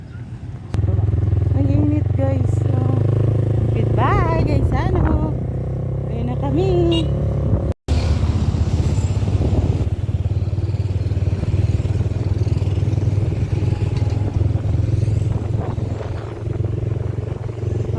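Motorcycle engines idle and rumble steadily nearby in a shopping mall parking lot, with a low continuous drone and occasional revs, while people talk over the noise.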